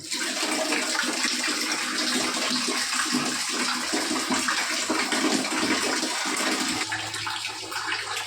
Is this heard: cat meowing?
no